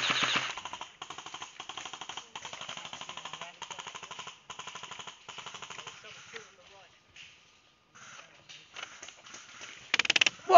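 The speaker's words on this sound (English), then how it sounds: "That's Mr. Tommy Gun. Ace Ventura's shooting us" An airsoft Tommy gun firing at players on a field, long rapid bursts of mechanical shots at moderate distance, with a short sharper burst near the end.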